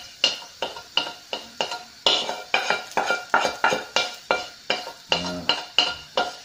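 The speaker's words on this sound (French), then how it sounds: "Une fois qu'on a enlevé nos légumes de notre wok, qui reste encore très chaud" Vegetables being scooped out of a very hot wok with metal utensils, giving a steady run of sharp scraping clinks roughly every half second, loud and close, with faint sizzling between strikes.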